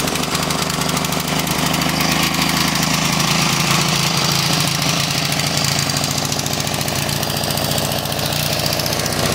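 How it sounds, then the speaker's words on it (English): Old Briggs engine on a John Deere sidewalk edger runs loud and close with a rough, pulsing idle and mechanical rattle, steady throughout with no voices. "I ended up getting this old Briggs engine to run, but this Edger is going to need a blade. But anyway, this engine's running decent."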